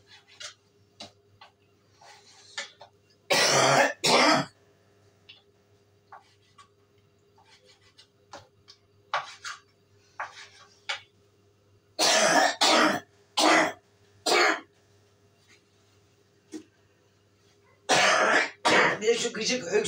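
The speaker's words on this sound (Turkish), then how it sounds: "Öksürüğüm dur tutmasa beni ne iyi olacak." A person coughs and clears their throat in a home kitchen while cooking pilaf, with rough bursts in clusters separated by quiet stretches, close to the microphone and with occasional speech.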